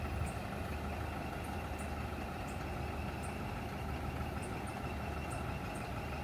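A Viação Borborema bus idles at the Recife bus station, its heavy diesel engine giving a steady low rumble with a constant hum, close and unbroken throughout, with no talk over it.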